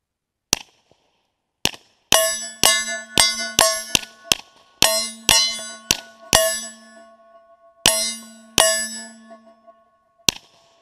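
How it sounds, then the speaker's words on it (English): A Glock 21 fitted with a Gemtech Blackside 45 suppressor fires 230 grain ball ammo: about fifteen sharp, muffled reports, mostly in quick irregular strings, several trailing a bright metallic ring, loud and close. "Glock 21, Gemtech Blackside 45, shooting 230 grain ball ammo."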